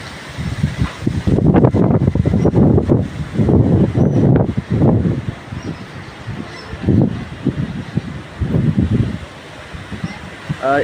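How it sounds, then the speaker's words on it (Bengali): Strong stormy wind blows ahead of rain in Kaliganj, Jhenaidah, with loud gusts buffeting the microphone in repeated rumbling bursts that rise and fall over a steady roar. "এত পরিমাণে বাতাস হচ্ছে যে পুরোগুলো অন্ধকার হয়ে গেছে"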